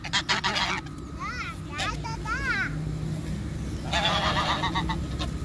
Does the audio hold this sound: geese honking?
yes